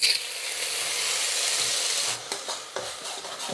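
Chopped onion sizzling and hissing in hot ghee for a prawn curry base, a steady close frying crackle that eases after a couple of seconds as stirring scrapes and knocks the pan.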